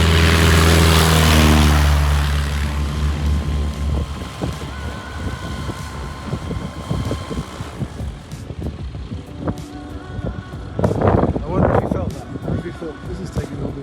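A Cessna 182 propeller aircraft on a downwind takeoff roll, with a loud engine roar at the start that eases into a steady drone, while a voice talks over it on the intercom.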